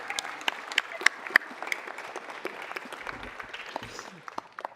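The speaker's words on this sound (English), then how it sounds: "Another round of applause, please." Applause from a city council meeting audience honoring an undefeated youth sports team, moderate and steady with scattered sharper claps, heard from a distance in a large room and fading slightly toward the end.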